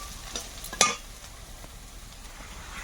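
Bengali five-spice seeds dropped into hot oil for a tilapia fish curry, giving a soft crackling sizzle with a sudden bright pop near the start, then a quieter steady fry.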